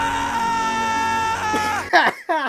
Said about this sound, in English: I haven't heard Noah scream so angrily